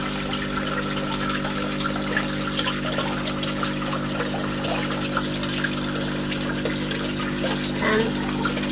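Small indoor waterfall built from a bucket and a few stones in a decorated indoor pond, giving a steady close trickle and splash of running water alongside a constant pump hum, with no speech.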